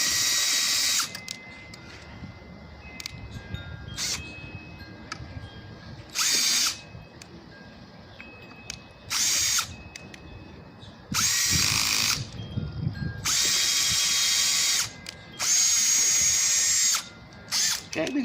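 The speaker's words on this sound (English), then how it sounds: "we're going to drill a hole in it first, and then the screw will be able to screw in very easily into the wood" Electric drill boring a hole in wood for a reused-materials flower planter, several whining bursts of a few seconds each, starting and stopping with short gaps and quiet handling noise between them.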